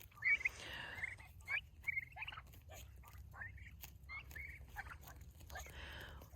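Backyard chickens in a garden make scattered soft clucks and short calls over a steady low background hum, fairly faint and spread across several seconds.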